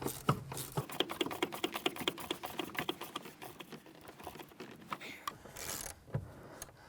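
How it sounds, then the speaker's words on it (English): A 13mm gear wrench tightens rear strut assembly bolts on a 2006-2013 Chevrolet Impala, giving quick runs of light ratcheting clicks that start fairly distinct and then thin out into fainter clicking. "Let's go ahead and use a 13mm gear wrench to go ahead and tighten these down"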